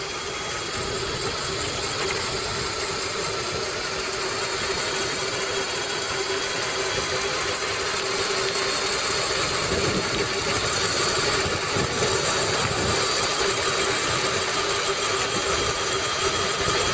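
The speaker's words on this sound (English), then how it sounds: "So there's the motor engaged. It's a lot quieter now." A homemade electric bike built with a scooter motor runs continuously, giving a steady close mechanical drone with a constant tonal whine and rattly vibration, unchanging throughout, with no talking.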